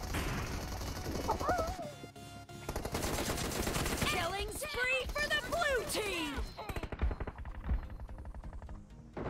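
Rapid bursts of DP machine gun fire in PUBG Mobile, loud and close, rattling in clustered volleys over several seconds while a player talks excitedly over the shooting.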